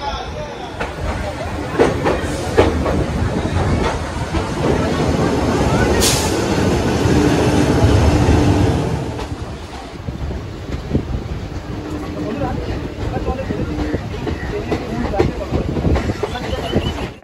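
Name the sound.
Kolkata to Digha passenger train running after departure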